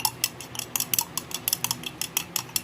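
Metal spoon clinking against a glass or metal container while mixing fragrance oil ingredients, a steady series of sharp, close ticks and scrapes roughly three or four per second, with no voices.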